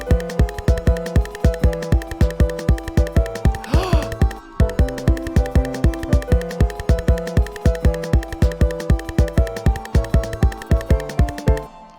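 Looped electronic beat with Gross Beat presets automated to switch at the start of every beat, giving a steady pulsing, chopped rhythm of stacked tonal chords, loud and continuous with a brief dropout near the middle and no voices.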